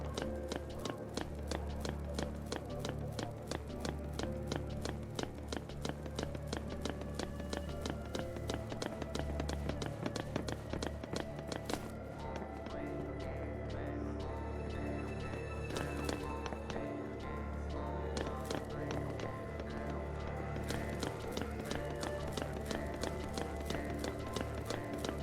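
Regular, rapid footsteps of Lightning running in Final Fantasy XIII, a steady tapping rhythm that carries on throughout, mixed with faint game music in the background.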